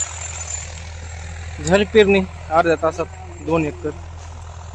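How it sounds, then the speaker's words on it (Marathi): A tractor engine runs at a steady low idle-like hum while sowing chickpeas in a farm field, a continuous drone beneath someone talking close by. "बघा कसं ट्रॅक्टर फास्ट चाललंय."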